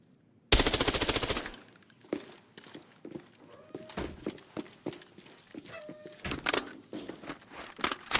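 Automatic gunfire in Arena Breakout Infinite emptying a whole magazine: a loud, dense burst of rapid shots up front, followed by scattered thuds, clicks and footsteps.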